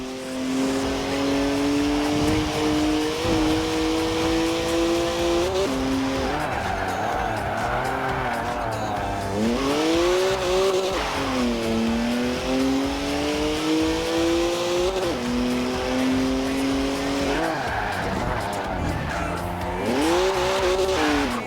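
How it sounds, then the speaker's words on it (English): A rear-wheel-drive BMW drifts in Forza Horizon 4, its engine note rising and falling in long sweeps while the tires squeal almost continuously, loud and close throughout. "It's a BMW, so of course it's rear-wheel drive. 50-50 weight distribution too. It's a natural-born drifter."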